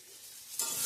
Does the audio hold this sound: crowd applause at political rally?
no